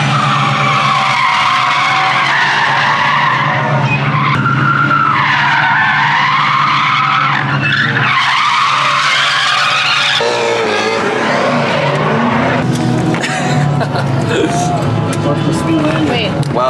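An electric car skids hard during a ride at a large automotive convention, its tires squealing loudly and almost without pause, the pitch sliding up and down as it slides.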